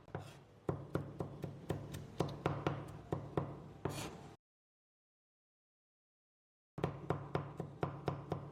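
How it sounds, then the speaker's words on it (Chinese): Rapid, even knife chops mincing garlic thud on a board at close range, broken by a few seconds of total silence before the chopping resumes. "然后再改刀剁成蒜末就可以了。"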